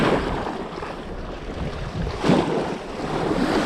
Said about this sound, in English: I'm hoping the wind might just ease up a bit